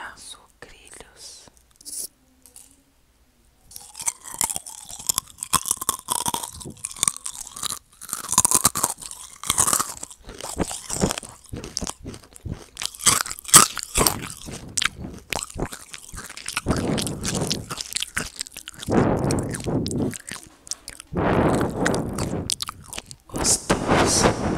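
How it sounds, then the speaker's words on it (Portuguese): Someone crunches and chews Sucrilhos crunchy breakfast cereal close to the microphone, with dense, irregular crisp bites and mouth sounds that continue throughout, mixed with quiet whispering. "Agora vamos pra coisa bem crocante que vocês vão adorar. Sucrilhos."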